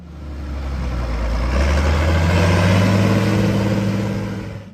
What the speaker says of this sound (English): When you fire up its DT436 turbo diesel, there's this deep, confident growl